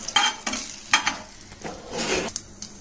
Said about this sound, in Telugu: వేగిన తర్వాత పోపుని ఆ వెల్లుల్లి రసం పైన వేసుకుందాము